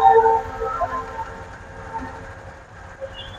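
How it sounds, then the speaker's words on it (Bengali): A train passes a level crossing on the way to Narayanganj, heard as a loud rumble at first that fades into a softer steady drone, with a faint brief tonal note near the end. "এই যে ট্রেন যাচ্ছে"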